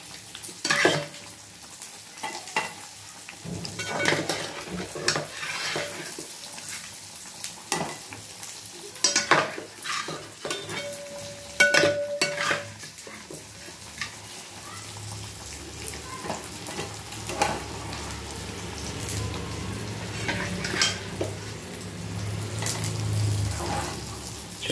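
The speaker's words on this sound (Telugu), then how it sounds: "చూడండి ఫ్రెండ్స్ ఎంత బాగా ఉడుకుతున్నాయో" Fish pieces simmer in a tangy curry in a pan, a soft bubbling sizzle under repeated spoon scrapes and clanks against the pan, close, with a louder bubbling boil building toward the end and no talking.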